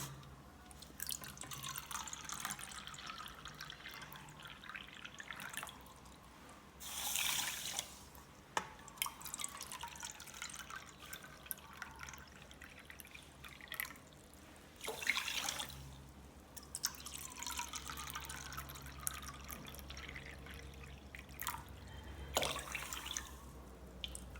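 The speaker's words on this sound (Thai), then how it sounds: "ตวงน้ำเปล่านะคะ ก็ใช้ถ้วยตวงของเหลวค่ะ หน่วยของถ้วยตวงคือตรงนี้นะคะ เทใส่ลงไป สี่ถ้วยตวงค่ะ" Water poured from a liquid measuring cup into a pot to make brine for salted eggs, in several separate splashing pours with drips between them, close and fairly quiet.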